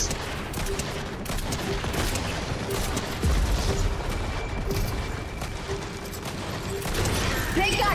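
Rapid bursts of gunfire in the video game Fortnite crackle through a busy mix, with repeated shots and clatter moderately loud under a steady game background.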